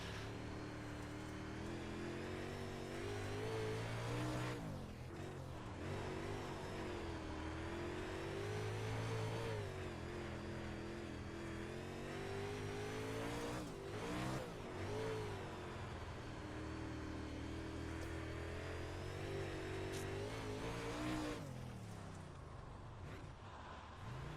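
UMP Modified dirt car in iRacing at Weedsport, engine revving hard and steadily throughout, rising and falling with throttle and shifts, loud and close with no talking.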